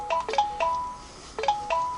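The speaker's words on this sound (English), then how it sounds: "I just turned on my cell phone to use the timer. That's all the messages, sorry." A cell phone just switched on chimes out a quick series of bright notification tones, two clusters of short rising beeps with a pause between, clear and close in a quiet room.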